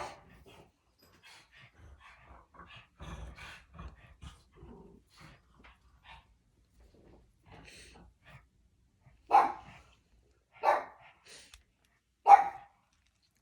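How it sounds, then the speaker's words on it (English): Soft shuffling and faint whimpers, then three sharp, loud dog barks spaced a second or so apart, each standing out against silence. "He's barking at nothing."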